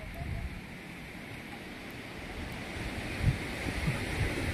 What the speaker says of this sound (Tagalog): Lumalaki na yung alon oh.